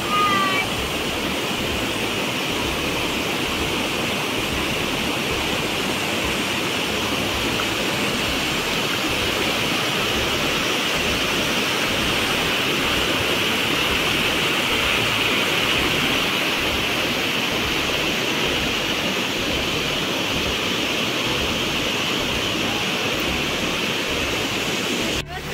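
Flowing river water at San Antonio, Labo, Camarines Norte: a steady, broadband rushing wash that holds at the same level throughout, close and continuous, with no breaks.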